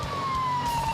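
A police car siren wails during a freeway pursuit through traffic, its single bright tone sliding slowly downward. It sounds loud and close over the rumble of road noise.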